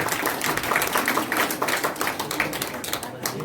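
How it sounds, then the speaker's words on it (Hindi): Audience members clap at the Shankhnaad honours ceremony of 2021, a dense, even patter of many hands that carries on steadily throughout at moderate loudness. "बाकी आप तालियां बजा सकते हैं।"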